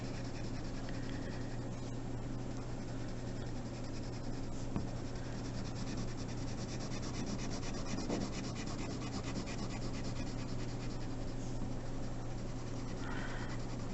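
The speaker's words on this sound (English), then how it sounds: "I'm going to get my blue colored pencil out" A blue colored pencil rubs back and forth across a paper map, coloring in the water in one direction, with steady soft scratchy strokes continuing close and quiet throughout, no voices.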